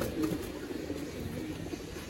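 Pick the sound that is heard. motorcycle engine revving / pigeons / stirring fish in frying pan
pigeons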